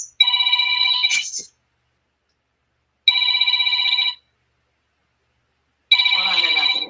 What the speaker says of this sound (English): Let me turn off the phone.